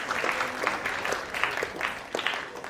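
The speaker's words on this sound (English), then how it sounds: "Let's have a huge round of applause once again." A modest audience at a book reading claps for author Aashisha Chakraborty, the applause sounding thin and uneven, with distinct individual claps rising and fading over a couple of seconds.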